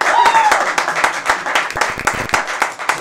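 An audience at a French comedy talk show breaks into applause, a dense burst of close clapping that keeps going with uneven swells, with some crowd noise mixed in.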